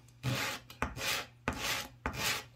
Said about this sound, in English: So here's a piece of 80 grit sandpaper. We'll just go like this and try to sand some of that off the bottom.